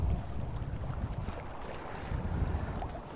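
Gusting wind buffets the microphone at a riverside fishing spot on the River Tyne at Church Bank, a steady low rumble with faint lapping water beneath and no voices.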